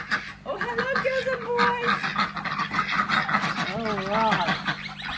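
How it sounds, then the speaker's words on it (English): Domestic ducks, hens and drakes, quack and honk in a noisy farmyard group, with nasal, wavering calls overlapping while a person speaks softly to them. "So we'll show you the ducks."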